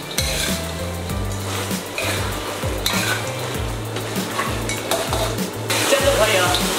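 Duck is tossed and stirred in a wok as a home-style dish is finished, with steady sizzling under rhythmic scraping and clanking strokes. The cooking is loud and close, and no one speaks.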